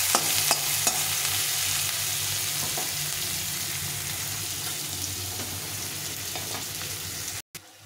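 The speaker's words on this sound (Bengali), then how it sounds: "পেঁয়াজটাকে ভালো করে একটু লাল লাল করে ভেজে নেব।" Two large chopped onions fry in oil in a pan, giving an even, close sizzle with occasional light spatula taps and scrapes, a low hum underneath, ending with a sudden cut.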